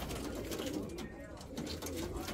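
A pet pigeon coos softly and repeatedly at close range, mixed with voices talking nearby and steady background noise.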